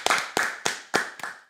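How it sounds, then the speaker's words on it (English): Slow, deliberate hand claps on a sports talk show, five or six sharp claps spaced evenly about a third of a second apart, close and fairly loud, with no talk over them. "Clap it up for that, man."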